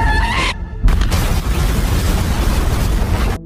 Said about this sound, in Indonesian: Namun saat akan dibawa, tas uang itu malah meledak